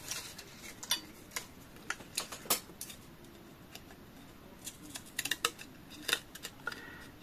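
Scissors snipping through paper scraps while trimming shapes into labels, a series of short crisp cuts and clicks at irregular intervals, close and fairly quiet, with no talking.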